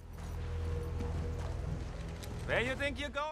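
Horse hooves clip-clop at a steady walking pace under a dense wash of background sound, with a brief whinny-like call near the end.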